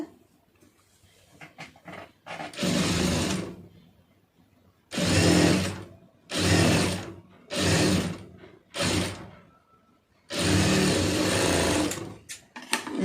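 A sewing machine stitches fabric along a folded quarter-inch hem for a hook strip, running close in six loud bursts of rapid stitching that last one to two seconds each, separated by short quiet pauses, with no voices.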